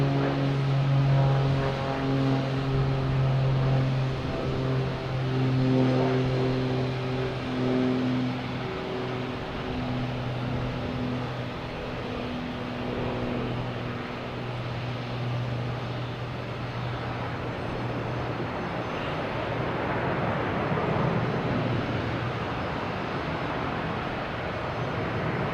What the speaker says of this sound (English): A340 300. The second A340 that comes in from Germany.